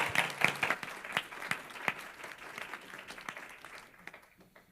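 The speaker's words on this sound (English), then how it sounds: "if everyone likes to give Emily a big round of applause for such a great event" A room of students at a joint city council and student senate meeting claps for several seconds, a lively burst of applause that starts strong and gradually thins out to scattered claps.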